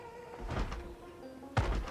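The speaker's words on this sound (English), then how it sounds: "So, remove this broken glass." Broken window glass gets cleared out in Project Zomboid, two muffled knocking thunks about a second apart over a steady low hum.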